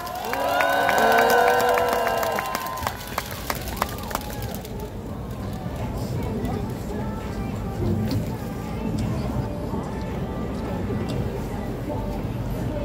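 An outdoor protest crowd in Korea bursts into applause and cheering, loud at first and then settling into a sustained, steady clapping roar.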